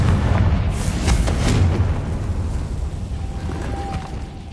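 A Confringo spell explosion in the Hogwarts Legacy video game: a heavy, close blast with crackling bursts in the first second and a half, then a fading rumbling tail and a faint thin whine, with no voices.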